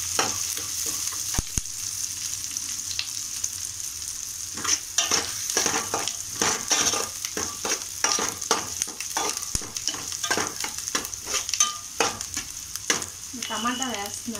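Green chilies sizzle in a pan for an egg, potato and tomato curry, a steady frying hiss broken by scraping stirs and the odd sharp clink near the end.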